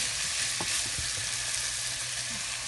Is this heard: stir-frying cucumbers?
yes